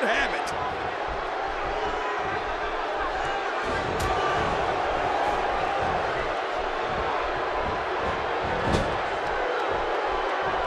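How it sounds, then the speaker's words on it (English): Wrestling event crowd in an arena roaring continuously, a broad, loud wash of cheering and shouting that holds steady for about ten seconds, with a few sharp knocks and bangs cutting through. "Would you listen to this crowd show their appreciation for these amazing competitors?"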